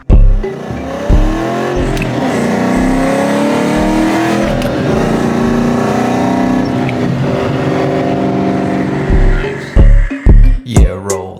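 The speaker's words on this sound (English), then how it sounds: "Yeah, roll up, hear that engine roar" A tuned 4.6-litre Ford Mustang GT V8 revs hard and roars steadily close by, with deep rumbling and a few sharp throttle blips at the end.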